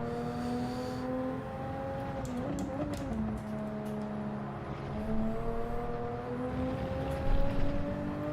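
A car engine revs in Gran Turismo 7 on Trial Mountain, pitch rising and dropping with gear shifts and throttle changes, joined by a squealing, whining tone.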